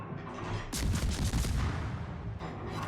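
Naval gun salvos from a German Z-35 tier 8 destroyer in World of Warships on the Northern Waters map, a rolling series of booming shots with mechanical clatter, moderately loud and close.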